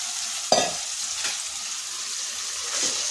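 Chicken paste drops into a hot frying pan for a home-style chicken curry, bursting into a sharp sizzle and then settling into a steady hiss, with a second small sizzle burst near the end.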